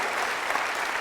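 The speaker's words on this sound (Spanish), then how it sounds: "naturalmente me emociona su aplauso" Audience applause at a formal event honouring a speaker, a dense steady wash of clapping hands filling the full second with no voices over it.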